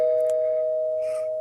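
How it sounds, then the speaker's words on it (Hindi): A home doorbell gives one sustained electronic tone, loud and steady for over a second, with no voices. "बच्चों ने जैसे ही डोरबेल प्रेस की,"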